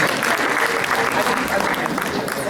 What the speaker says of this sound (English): Let's give a round of applause for Dr. Rida and Sister Naha.